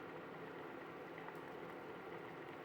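Maggi noodles with a little pepper powder simmering in a pot, giving a soft, steady bubbling hiss that stays even and quiet throughout, with no voices.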